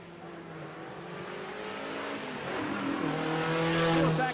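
A Datsun drag car runs down the track at Texas Motorplex, its engine note rising and revving steadily louder as it pulls away, heard alone without talk.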